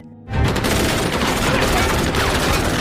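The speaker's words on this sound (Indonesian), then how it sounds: "Terjadi baku tembak yang sengit" Intense gunfire in a firefight between an armed team and three opponents, a dense, continuous fusillade of rapid shots that erupts after a brief quiet opening and stays loud and sustained throughout, with indistinct voices mixed in.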